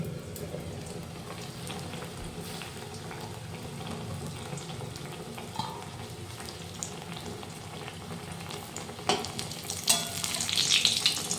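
Eggplant slices frying in oil in a covered pan give a steady, soft sizzle and crackle throughout, close by, with clinks of handling and a louder burst near the end.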